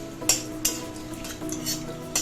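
Whole bay leaves, cinnamon and cardamom pods fry in hot oil, with a faint steady sizzle and a few light clinks of a utensil against the pan, close by and without talk.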